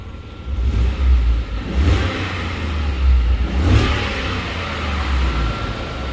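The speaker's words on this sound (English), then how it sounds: "Well, I got to rev her, clean her out a little bit, Rich." A 2015 Ford F150 with the 5.0 engine, check engine light on, revs repeatedly in rising surges after an intake and valve cleaning treatment, a deep close engine roar swelling and easing with no talk.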